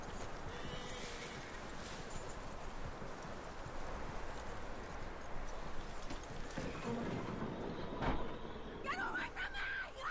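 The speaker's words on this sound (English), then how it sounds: "That looks like a decent horse." Horse hooves clip-clop steadily through a video game scene, a continuous rhythmic trot close by with game ambience underneath, a brief whinny-like sound near the end.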